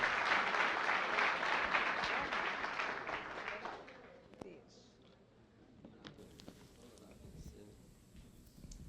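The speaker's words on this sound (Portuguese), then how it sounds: "dê uma salva de palmas bem bonita, calorosa, recebendo esse casal" A church congregation applauds warmly to welcome a couple, a dense wash of clapping for about four seconds that then fades into quieter room noise with a few scattered claps.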